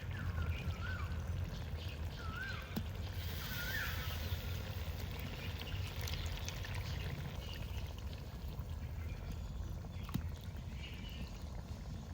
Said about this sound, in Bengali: আমি সামান্য জল সাইড থেকে দেবো, একটু একটু করে জল দেবো আর গরম হতে দেবো জলটাকে